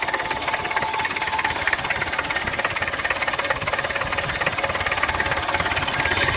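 A tractor engine idles close by with a rough, rapid knocking throb and a constant hissing, rattling exhaust, the exhaust pipe vibrating strongly at idle.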